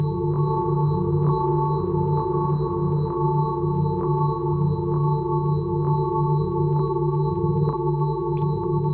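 Unfiltered Audio Silo granular effect sent through a long, distant reverb: sustained tonal drones with steady harmonic bands, plus soft, evenly spaced grain clicks ticking through the wash for about nine seconds.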